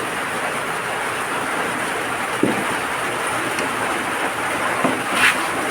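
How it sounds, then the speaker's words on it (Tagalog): Rain falls outdoors during a fishing outing, a dense steady hiss throughout, with a couple of faint knocks and one brief rustle near the end. "maulan, mababasa"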